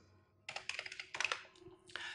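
Rapid keystrokes on a computer keyboard while entering Python code, a close burst of clicks followed by a pause and then a brief second flurry.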